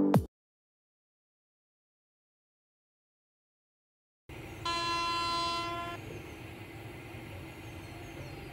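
A Mumbai local train in a video game gives a short blare, then after silence a rumbling carriage roll rises and a loud steady horn sounds for over a second before the rolling continues.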